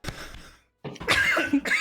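A couple of harsh coughs come close to the mic, with a brief pause between them.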